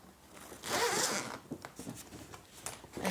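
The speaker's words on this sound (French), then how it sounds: "C'est une double fermeture éclair parce que j'ai un crochet ici et j'ai l'autre crochet ici." A double zipper on a bag being pulled open or closed, a steady rasping run near the start followed by shorter, quieter zips and tugs.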